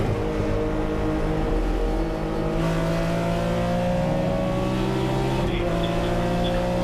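Vintage race cars, among them a 1975 Porsche 3.0 Carrera RSR, roar past on a circuit in a steady, loud engine drone with shifting pitch and a brief surge as one car closes in.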